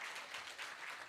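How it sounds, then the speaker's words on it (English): A crowd at a bodybuilding night of champions claps in a steady wash of applause, brief and fairly faint. "let's give him another big round of applause, ladies and gentlemen."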